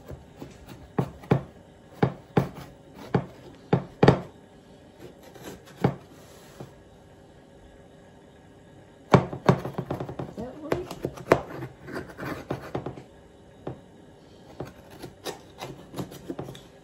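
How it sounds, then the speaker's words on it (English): A knife slices through a Samoan custard pineapple pie, giving a run of sharp, close taps and cuts in bursts with quieter gaps, and voices talk over parts of it. "Just cut them in the middle."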